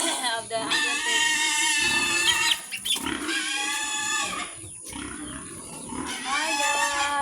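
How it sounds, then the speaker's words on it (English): Angry pigs on a farm in the Philippines squeal loudly and insistently, shrill repeated cries overlapping one another close by, with brief pauses between bursts. "You have to mute the video because of the angry pigs."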